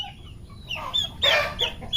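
A pet turkey calls loudly on a banana farm, with a few harsh, gobbling bursts close by, the strongest in the middle, over steady low outdoor background noise.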